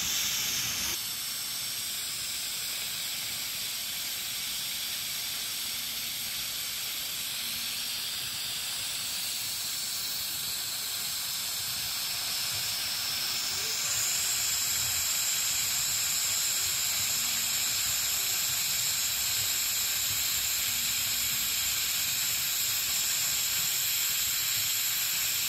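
A digital canner vents steam in a steady, loud, unbroken hiss that holds for the whole stretch with only slight shifts in texture.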